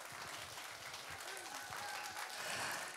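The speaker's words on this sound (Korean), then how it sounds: "박수 부탁드릴게요." Audience applause fills a hall at a talk concert for male cancer survivors, a steady dense wash of clapping throughout with faint murmurs underneath.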